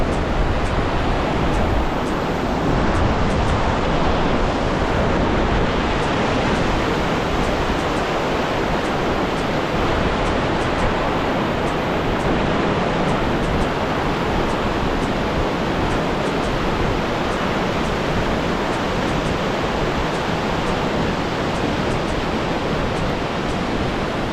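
Fast-flowing river water near Gangotri beside a small wooden bridge, a loud steady broadband rush that fills the whole stretch without pause and drowns out any other sound.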